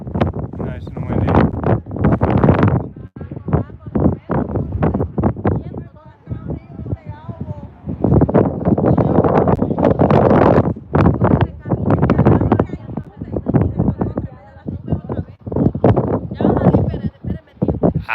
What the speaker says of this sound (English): Now the wind's kicking in.